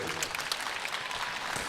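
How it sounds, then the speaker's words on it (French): Spectators at a boxing demonstration bout applaud the two boxers, a steady burst of crowd clapping with a voice speaking over it. "vous pouvez applaudir les boxeurs s'il vous plaît"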